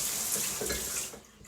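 A newly installed shower head sprays water in a steady, hissing rush that fades slightly near the end, with no talking during it.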